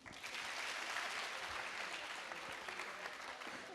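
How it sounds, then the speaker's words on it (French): A Burkina Faso audience claps steadily, a dense wash of applause that stays at an even level throughout. "Applaudissez."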